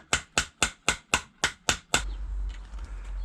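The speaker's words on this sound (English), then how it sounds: "now we can hammer it straight into the stem, I mean the steer tube" Eight sharp, evenly spaced hammer blows drive a fork part onto a bicycle steer tube during a Lyrik fork upgrade, loud and close, followed by a low rumble and faint knocks.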